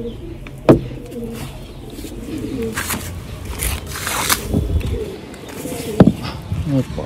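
Pigeons coo in soft, repeated throaty calls at close range, mixed with rustling, scattered chirps and background household noise, with a couple of sharp knocks.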